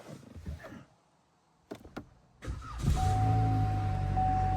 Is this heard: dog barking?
no